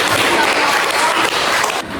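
Classroom applause after a group presentation, a dense, even clatter of many hands clapping together for about two seconds before tapering off.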